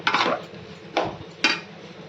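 Three scraping strokes of a spoon stirring potatoes in a metal pan, one long scrape followed by two shorter ones, fairly close.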